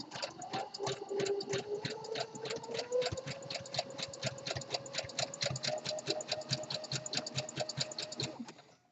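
Home sewing machine stitching an elastic waistband onto a boxer brief: a steady, fast run of close, even needle clicks over a rising motor whine, continuous for about eight seconds before stopping abruptly.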